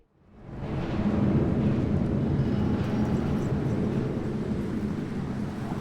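Aircraft flyby in the video game Deus Ex: Mankind Divided, a deep, rumbling roar that swells quickly and holds loud and broad, then fades slightly toward the end, with no voices over it.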